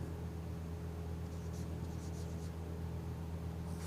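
A marker or chalk scratches letters onto a board during a chemistry lesson, faint short strokes clustered together over a steady low background hum.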